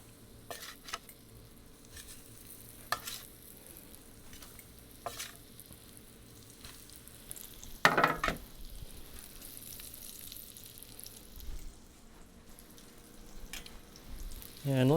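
Mock sausage patties frying in a pan of hot bacon drippings over medium-high heat, a steady low sizzle with scattered sharp pops and clinks, plus a brief louder burst as food lands in the fat.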